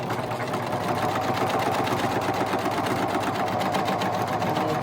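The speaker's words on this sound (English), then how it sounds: "with my particular serger, it has a little hard time sometimes getting started" A serger sewing machine runs steadily and close by while stitching lavender sachet fabric, with a dense, rapid mechanical whir that holds constant throughout and no talking.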